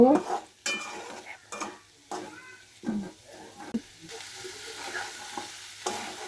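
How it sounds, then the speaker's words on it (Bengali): Taro stolons fry in a pan for a pabda fish curry, and a spatula stirs them in separate scraping, clattering strokes over a low sizzle after a lid is lifted, close and intermittent, with no voices. "ঢাকনাটা উঠিয়ে একটু নাড়াচাড়া করে নেব"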